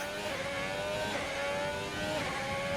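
A Ferrari racing car in the RSF1 sim racing game at Monaco holds a loud, steady, high-pitched engine drone that runs continuously through the whole moment.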